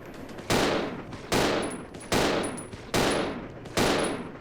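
Four loud, evenly spaced single gunshots from a handgun in Resident Evil 0 HD, each with a sharp crack followed by a long, echoing decay.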